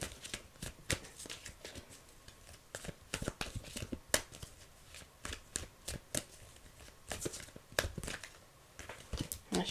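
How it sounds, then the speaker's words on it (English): Tarot cards being shuffled by hand, a quiet, close run of rapid papery riffles and snaps in uneven bursts, no talking. "My shuffling game is off tonight."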